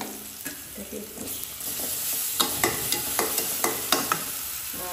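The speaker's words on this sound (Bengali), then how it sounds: "এবার আদা রসুনের পেস্টটাকে পেঁয়াজের সাথে একটু ভেজে নেব।" Garlic and ginger paste fries with onions in a pan, sizzling steadily while a spoon scrapes and taps in a quick, repeated stirring rhythm close by.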